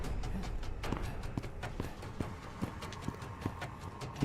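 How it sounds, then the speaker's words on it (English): Character footsteps in The Bridge Curse 2 video game, a steady series of moderately loud hard thuds with a clip-clop cadence, about eight impacts over several seconds, alone with no talk. "I think that's my character's footsteps."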